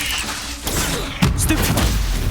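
A Confringo combat spell goes off in the Hogwarts Legacy video game, with a sudden thumping burst about halfway in and a fiery crackling rumble trailing after it, layered over dense battle noise.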